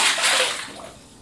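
Bath water splashing and sloshing in the video game Garten of Banban 3, a loud, steady wash of splashes that eases slightly toward the end, with no talking.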